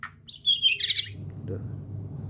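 Bright white-rumped shama chirps and whistled notes ring out close by for about a second, then fade into a low steady background hum.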